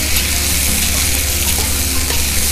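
Brinjal pieces that were soaked in salted water fry in a pan for curry, giving a loud, steady sizzle with scraping stirring sounds, alone and without talk.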